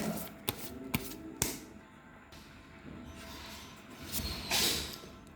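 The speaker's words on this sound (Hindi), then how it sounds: "थोड़ा सा शफल कर रहा हूँ।" Tarot cards being shuffled up close, with a few sharp snaps early on and then a softer, rustling riffle that swells near the end, with no talking.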